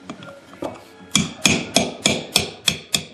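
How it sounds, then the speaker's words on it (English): A metal socket taps a Ford E450 blower motor retainer clip down into place, giving a run of about seven sharp, evenly spaced knocks close to the microphone with no talking. "use the socket you took your screws out with"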